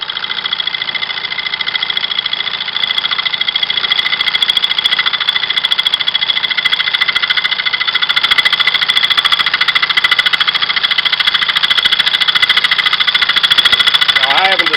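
Wood lathe spinning a tobacco pipe blank as wood is cut away, a steady continuous mechanical drone with a high whine, loud and unbroken for the whole span.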